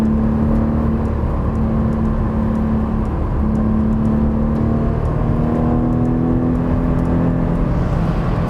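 A Porsche 718 Boxster/Cayman GTS 4.0 flat-six howls loudly down a straightaway at speed, its engine note climbing steadily through a long, continuous pull with a strong whirring drone.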